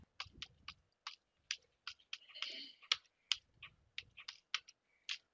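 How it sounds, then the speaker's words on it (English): Computer keyboard typing plays close and quiet in a still room: a series of separate, crisp key clicks in an uneven rhythm, with one brief burst of clattering partway through. "Type the command, after that hit enter."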